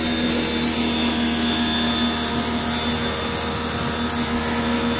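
Steady, loud high-pressure spray hiss from a pressure washer on its normal spray setting, with a constant motor drone underneath, unbroken throughout.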